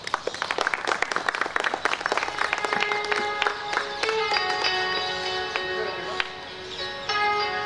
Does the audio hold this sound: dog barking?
no